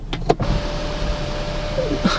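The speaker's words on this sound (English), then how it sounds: "Look how the sunroof opens and closes." Electric sunroof motor on a 2015 Hyundai Azera 3.0L V6 sedan, a faint steady whirr inside the cabin with a few soft clicks at the start and finish.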